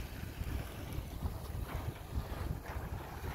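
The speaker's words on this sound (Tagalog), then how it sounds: "Lumakas yung hangin." Strong wind gusts over Manila Bay near the shoreline of Dolomite Beach, a steady broadband rush with low buffeting on the microphone and possible lapping waves beneath, continuous with no talk.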